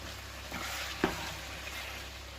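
Chopped tomatoes being stirred into a sausage and bean casserole in a hot pan, with a steady soft sizzle and one sharp scrape or clatter from a spoon partway through, close and fairly quiet.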